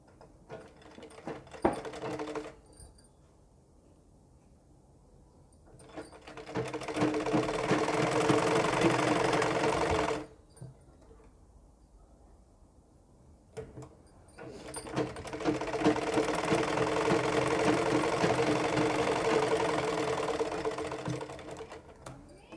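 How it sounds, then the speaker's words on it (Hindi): A sewing machine runs a basting seam on fabric in two long bursts of fast, even mechanical whirring and needle clatter, separated by quieter pauses with small handling clicks; close and fairly loud. "हम एक इसमें कच्ची सिलाई लगाएंगे"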